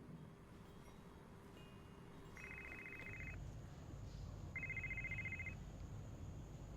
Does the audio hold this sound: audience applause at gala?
no